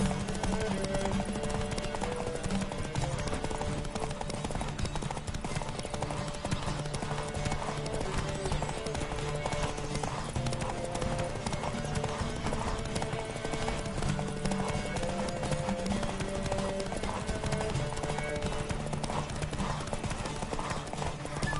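A horse gallops in The Witcher 3, its hooves drumming a fast, steady rhythm of clip-clops throughout, with a brief whinny and speech over the hoofbeats.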